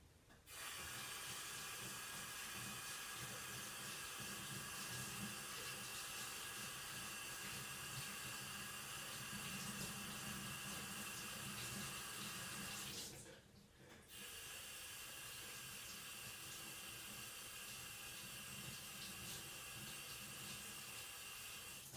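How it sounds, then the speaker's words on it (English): A tap runs steadily into a sink while hands are washed, a close continuous hiss of water with a brief dip partway through, no talking. "I'm going to go wash my hands real quick while that sets a little bit"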